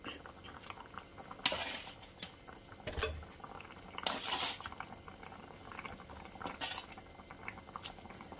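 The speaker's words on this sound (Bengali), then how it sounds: "এখানে ঝোল ফুটে উঠেছে" A curry broth for fish bubbles in a pan, a soft, continuous simmer broken by a few sharp clinks and scrapes of a utensil against the pan, heard up close.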